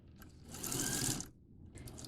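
A sewing machine stitches through trouser fabric in one fast, steady run of close needle strokes, then stops briefly before starting again.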